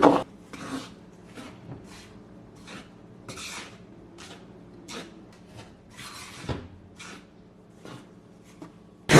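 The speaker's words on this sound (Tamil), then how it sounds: "கை விடாமல் இந்த மாவு வந்து கிளறி கிளறி வறுத்தெடுக்கணும்" All-purpose flour stirred continuously while dry-roasting in a pan, heard as repeated rhythmic scraping strokes of a spoon against the pan, close and fairly quiet, with no speech.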